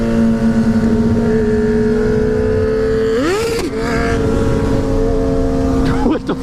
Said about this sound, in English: A ZX-10 does crazy wheelie.